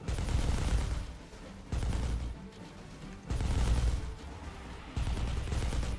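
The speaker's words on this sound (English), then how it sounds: "I think those are the Gauss cannons" Gauss cannons and autocannons firing in a space battle in the strategy game Sins of a Solar Empire 2, dense bursts of rapid heavy gunfire in alternating loud volleys and quieter stretches, continuous with no talk.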